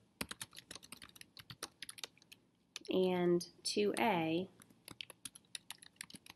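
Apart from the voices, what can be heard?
typing on a computer keyboard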